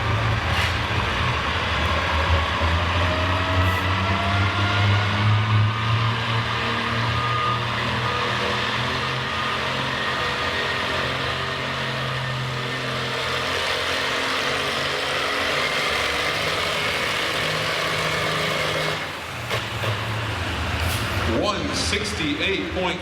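A pulling tractor roars at a winter tractor pull in Chatham, Virginia, its engine holding a loud, sustained drone with rising and shifting tones for over twenty seconds while an announcer's voice is heard over it.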